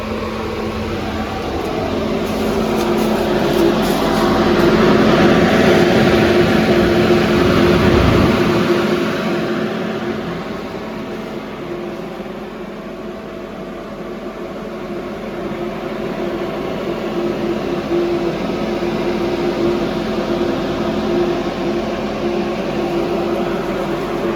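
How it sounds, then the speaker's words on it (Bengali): An air flow machine for onion storage runs steadily, a loud, continuous mechanical whir and hum with a faint high whine that holds throughout and swells slightly in the first few seconds. "এই যে মেশিন স্টার্ট হয়ে গেছে"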